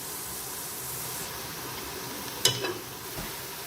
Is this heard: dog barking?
no